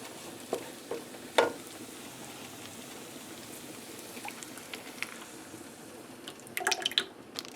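Minced garlic warms on low heat in two tablespoons of oil in a pan, giving a soft, quiet sizzle with scattered small pops and a brief cluster of crackles toward the end.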